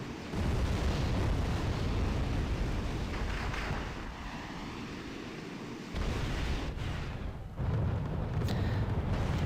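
A T-72 tank is destroyed by an anti-tank weapon in a video game, a deep rumbling explosion that rolls on with a roaring, surf-like wash and a few sharp bursts, moderately loud throughout.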